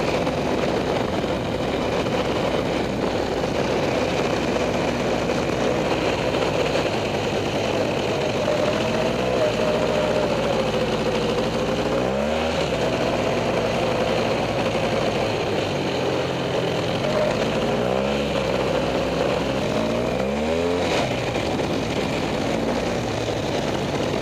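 A rebuilt Polaris 400 engine runs steadily and loudly, a constant droning roar with a few brief dips in pitch, close by and with no talking.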